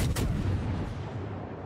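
A single heavy naval gun blast from World of Warships booms at the start, then rumbles and decays into a low lingering roar, loud and close with no voices.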